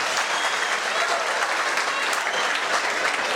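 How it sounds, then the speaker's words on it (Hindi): A large crowd at a Maharana Pratap Jayanti celebration in Mulund, Mumbai claps vigorously, producing a steady, even roar of applause that holds at full strength throughout. "जोरदार तालियों में बदल दीजिए"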